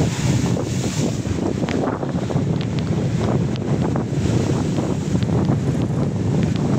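Strong surf pounds the coastline of Barangay Imus in Real, Quezon, a constant heavy roar of waves buried under loud, steady wind buffeting on the microphone, with no voices.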